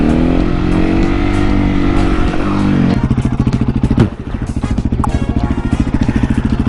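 A motorcycle ridden hard while doing wheelies, its engine loud and close with a steady throaty drone that shifts into a rapid, pulsing rev after a few seconds, accompanied by wind noise and no voices.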